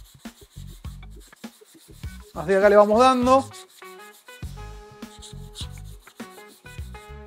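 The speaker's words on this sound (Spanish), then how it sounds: "le pasas la piedra por arriba de la lija y te va a quedar lisa" A knife-sharpening stone rasps back and forth over sandpaper in short scraping strokes, flattening the stone, while someone talks over it.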